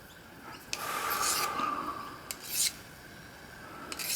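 Brief scrubbing and rubbing strokes while cleaning a machined engine cylinder part for an oscillating engine, a few short scratchy bursts separated by quiet gaps, close and moderately soft.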